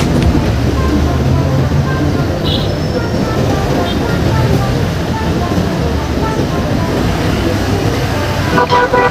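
Continuous loud rumble of an elevated MRT3 train passing overhead along EDSA at an intersection, steady roar with city traffic noise and a faint horn toot.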